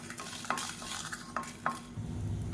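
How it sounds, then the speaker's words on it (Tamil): Dry red chilies, cloves and small cinnamon pieces dry-roast in a pan (kadai) while being stirred, giving a soft sizzle and several sharp scraping clicks of the spoon against the metal. It is fairly quiet, with no talking. "சின்ன துண்டாக ரெண்டு பட்டை எல்லாத்தையும் நல்லா வறுத்துக்கலாம்"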